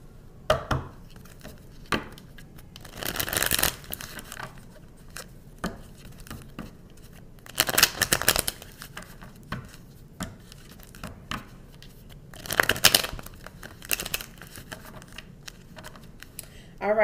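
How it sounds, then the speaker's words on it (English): A deck of tarot cards is shuffled by hand in three distinct bursts of rapid riffling and flapping, close and fairly loud, separated by quieter pauses. "I'm going to shuffle 3 times."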